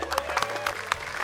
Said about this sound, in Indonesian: Tepuk tangan dulu dong buat.